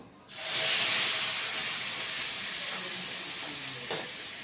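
Tomato paste and cashew paste with melon seeds and ginger hit a hot pan, giving a loud, steady sizzle that bursts in suddenly and then holds a long hiss close by for the cooking of a potato curry.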